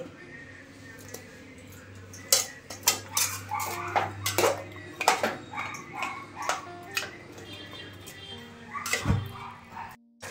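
Potato chunks go into a pot of Bengali mutton curry with clattering metal knocks and scrapes, sharp and close, repeated in an irregular rhythm along with a faint low hum.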